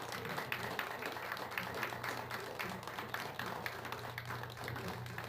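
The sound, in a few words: audience applause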